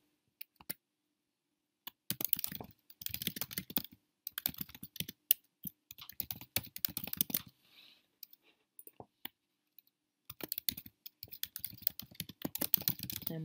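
Someone types a name on a computer keyboard, quick bursts of close key clicks separated by short pauses, alone without talking.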